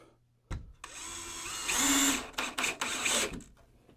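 Power drill driving coarse-thread drywall screws into wood for a holiday train layout, a sharp start followed by a sustained whirring run with bursts and stops, close and loud.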